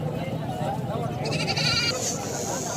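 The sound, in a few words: goat bleating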